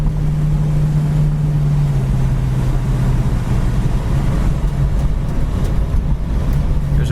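A 1967 silver Ford Mustang cruises at 55 to 60 mph, heard from inside as a steady, loud low engine drone with road and wind noise, continuous and unbroken.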